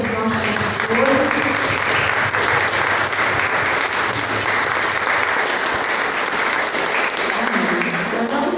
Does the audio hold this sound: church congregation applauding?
yes